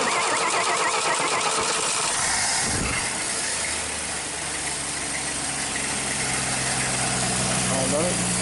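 1961 Dodge Lancer engine idling roughly, a continuous loud rumble with mechanical clatter and a brief dip partway through, with voices in the background.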